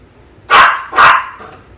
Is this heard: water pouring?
no